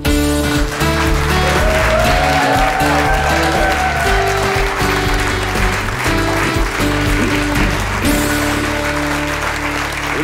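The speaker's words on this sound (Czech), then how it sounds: "Tak zkoušeli jsme ten potlesk" Audience applause in a small theatre club during a comedy show, steady clapping throughout, mixed with a sustained tonal hum and some background sound, cutting off abruptly near the end.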